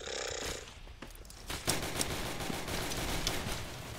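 Rifle gunfire in the trench warfare video game Entrenched, rapid cracking shots over dense battlefield noise that grows louder midway and continues steadily to the end.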